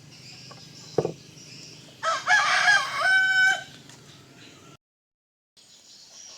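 A rooster crows loudly and close, one long drawn-out call with strong harmonics, following a sharp knock and quiet farmyard clucking; a short silent gap comes near the end.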